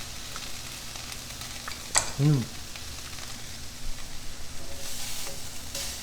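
Food simmers and sizzles steadily in a pan, a continuous close crackle broken by a brief clatter and a louder rise near the end.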